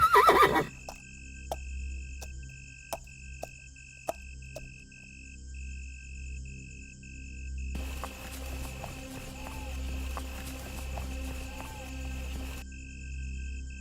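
A frightened horse in a forest whinnies loudly at the start, then stamps and scrapes its hooves with sharp, spaced knocks over a low steady rumble, with a dense buzzing texture joining midway.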